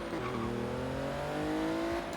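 A BMW i8 hybrid in Forza Horizon 3 runs in electric mode, giving a smooth rising whine that climbs steadily in pitch with no engine roar, heard clearly on its own.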